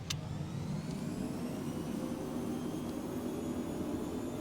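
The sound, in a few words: Phenom business jet engines at full throttle on takeoff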